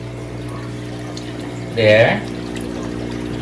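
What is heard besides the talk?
aquarium pump pumping water into a 90 gallon tank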